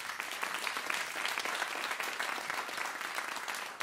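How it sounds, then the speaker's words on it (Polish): Steady, fairly quiet applause from a jazz concert audience after a trio performance, many hands clapping evenly for several seconds with no talk. "Również duże brawa dla panów."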